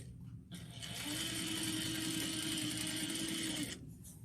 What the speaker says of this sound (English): start sewing 3/8 of an inch back stitch